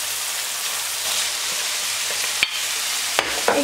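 Minced meat fries in a pan with a steady, close sizzle and crackle, joined by a few sharp scrapes and clacks of stirring near the end, with no talk.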